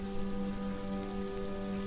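Steady rain falling in the video game Solarpunk, an even hiss of drops on surfaces with a low tonal hum beneath and no change in intensity.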